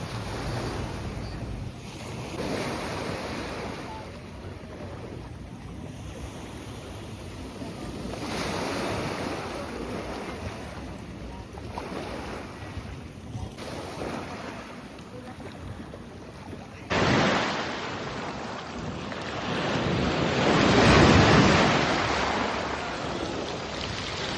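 Sea surf rolling onto a beach at Beldibi, mixed with steady wind buffeting the microphone, with a louder surge of breaking waves near the end.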